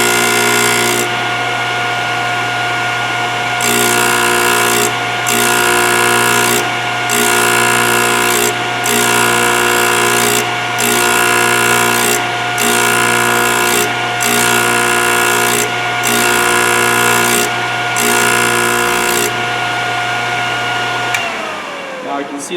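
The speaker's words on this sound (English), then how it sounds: "And then I'm going to grind it until I remove all that red felt penning and create a new edge." A Thorvie AV-40 sharpening machine grinds a new edge onto a hole saw, its loud steady motor hum broken by regular rasping grinding passes, about a dozen in a row, before the motor spins down.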